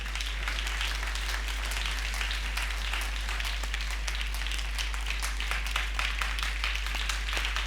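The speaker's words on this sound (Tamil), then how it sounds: "கைத்தட்டி ஸ்தோத்திரம் பண்ணு." Congregation clapping hands in praise at a Sunday church service, a dense, steady rattle of many hands sustained throughout, loud and close, with a low hum underneath.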